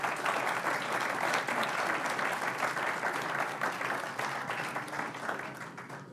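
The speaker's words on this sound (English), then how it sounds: "Let's give a round of applause to our panelists" Conference audience gives the panelists a sustained round of applause, a dense even wash of many hands in a large room that fades slightly toward the end.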